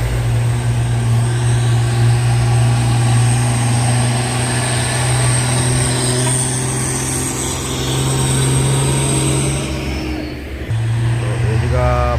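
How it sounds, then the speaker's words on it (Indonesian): A truck labors on a hill road with a continuous deep engine rumble and a steady low hum that holds throughout, then briefly drops near the end before resuming. "dan ada truk Fuso warna coklat di bawah sana ya bosku."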